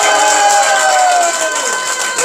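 Crowd at a Busan political election rally applauding and cheering, a loud, dense, continuous wash of clapping and voices that holds steady throughout.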